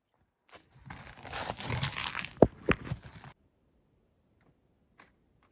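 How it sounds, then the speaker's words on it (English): A dog named Waylon chews and crunches on ice in a cold off-grid cabin: close, crackling crunches for about three seconds with a couple of sharp bites, then near silence apart from one faint click. "All I can hear is Waylon chewing on the ice"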